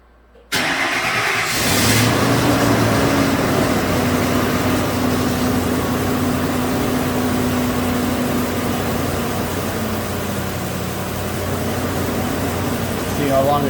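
A 2006 Ford F250 with the 5.4 engine cranks briefly and then fires up, settling into a loud, steady idle nearby that continues for over ten seconds.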